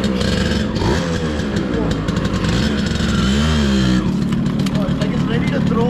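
Yamaha RX 135 two-stroke five-speed motorcycle running loud and close, a steady buzzing engine drone that rises briefly as it revs, with a voice talking over it.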